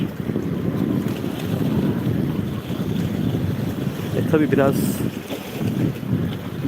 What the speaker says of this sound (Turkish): Hafiften bir esinti var.